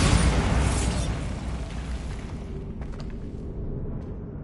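A Bombarda spell exploding in Hogwarts Legacy, a loud, broad blast that rumbles and slowly dies away into a few faint crackles, no voices.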